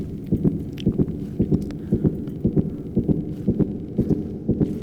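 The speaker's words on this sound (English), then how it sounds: "So this is the heartbeat we've been hearing" A heartbeat in the video game LiDAR pulses in an even, steady double-thump rhythm, about nine beats, loud and low with nothing else over it.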